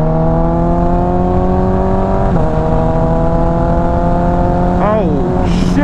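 A Kawasaki ZX14r motorcycle engine pulls hard under acceleration on a sweeping country road, its steady loud drone climbing in pitch through the gears with a brief shift dip near the end, heard up close with wind noise.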